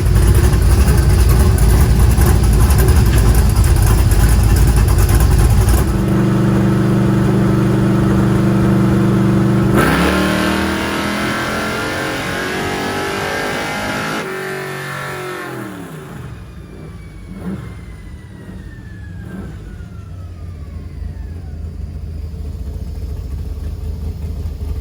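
Blueprint small-block Chevy 400 cubic inch engine on a dyno, a loud sustained roar that climbs in pitch through a full pull, then drops back and settles to a lower idle with the revs gradually rising again.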